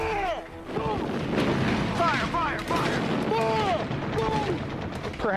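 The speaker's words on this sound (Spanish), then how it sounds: "la costa sur de California se llena de haces de luz y ráfagas de fuego antiaéreo" Dense bursts of anti-aircraft gunfire and booms fill a night scene over the southern California coast, with rising whistling tones cutting through repeatedly, a chaotic barrage that continues throughout.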